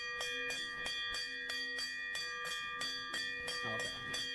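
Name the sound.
bell sound effect rung during livestream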